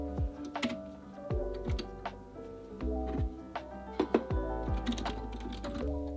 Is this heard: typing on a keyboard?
yes